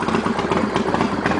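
A Harley-Davidson Fat Boy chopper motorcycle engine idling, a steady low rumbling loop that is loud and close, with no voices.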